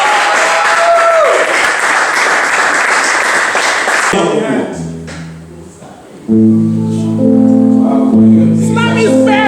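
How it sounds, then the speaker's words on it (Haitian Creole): An audience claps for the participants at the launch of a first-edition summer slam poetry contest; dense, steady applause fills the first four seconds, then fades as music with sustained tones takes over. "en même temps que le public applaudit tous les participants"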